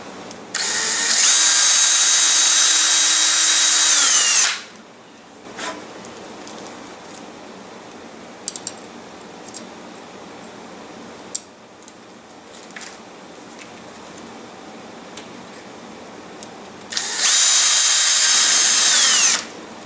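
A power drill with a 9/64 bit bores pilot holes through a rocket retainer, running in two loud, sustained bursts with a quieter gap of handling between them.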